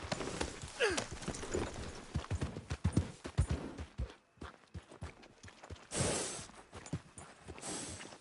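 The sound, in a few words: horse hooves walking, from a video game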